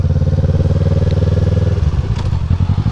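A Honda CBR 500R motorcycle rated at 47.5 horsepower idles close by with a loud, steady pulsing engine thrum. Partway through the beat shifts and turns rougher, with a few clattering thumps, and no one speaks.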